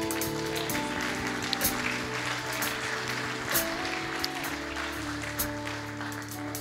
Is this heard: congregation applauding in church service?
yes